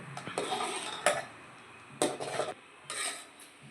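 Butter melts in a pot as it is stirred to make ghee, the utensil scraping and clinking against the metal in several separate strokes, close and moderately loud, with a faint sizzle between them.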